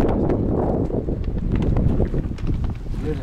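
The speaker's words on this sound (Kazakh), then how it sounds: "Қармақтарымыз тұр, дала жел." Wind blows across open steppe beside a river, a continuous low roaring buffet against the microphone that stays loud and unbroken throughout.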